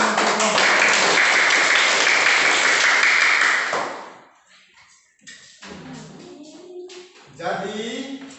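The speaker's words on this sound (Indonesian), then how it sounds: "kita tepuk tangan dulu untuk kelompok" A classroom of students claps for a student group for about four seconds, a dense burst of applause that fades out, followed by quieter voices of children and a teacher talking.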